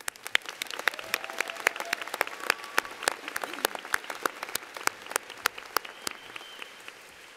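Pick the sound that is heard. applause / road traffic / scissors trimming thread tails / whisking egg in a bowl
applause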